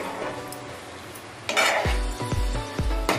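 Prawn curry masala with coriander being stirred in a pan: soft sizzling, then several firm, evenly spaced scrapes and knocks of a spoon against metal, close by and without speech.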